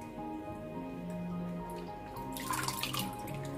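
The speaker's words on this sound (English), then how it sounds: "we can allow lots of excess water to drain out of your vegetables" Excess water drips and trickles from vegetables draining in a strainer or sieve in a home kitchen while cooking goat meat stew, faint and close, with a brief louder splashing patter near the end.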